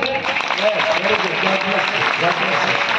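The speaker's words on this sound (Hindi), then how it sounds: "जोर ताली बजावा" A crowd at a student gathering claps loudly and continuously, a dense wash of hands over three seconds, with voices mixed in underneath.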